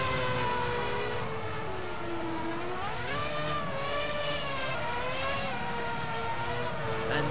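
A Ferrari spins donuts in the rFactor racing game at the Nurburgring. The engine revs loudly and continuously, its pitch rising and falling in steady waves with no voices.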